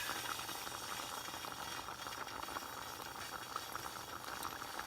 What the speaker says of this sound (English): I get this boiled up to the stage where I'm going to strain it